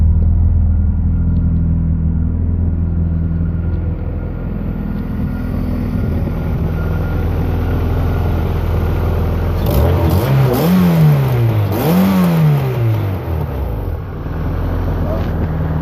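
A Honda engine swapped into a 2003 Mazdaspeed Protege idles with a smooth, close-up rumble, then revs up and back down twice before settling into a steady idle again.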